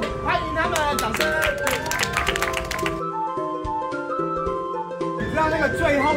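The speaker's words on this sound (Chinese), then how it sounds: "欢迎他们，掌声" At a 2023 international big-eater hot pot competition in Kaohsiung, a crowd claps to welcome the competitors. Quick scattered claps rattle over loud voices and tonal music, and the clapping drops away midway before sound swells again.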